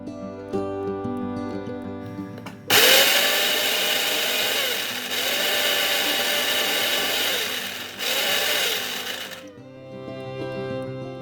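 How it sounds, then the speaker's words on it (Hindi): Green chilli, garlic and ginger whirring into a fine paste in a kitchen grinder, a loud steady motor roar running for about seven seconds with brief dips as it pulses, quieter background before and after. "और उस मसाले को मैंने अच्छे से ग्राइंड कर लिया था, बिल्कुल फाइन पेस्ट में ग्राइंड करना है उस मसाले को।"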